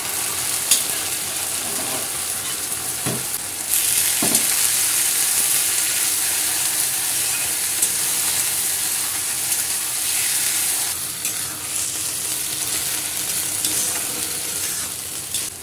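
Malabar spinach fries in hot oil in a pan with a loud, continuous sizzle and hiss. Occasional sharp clicks of stirring sound close by, and there is no talk.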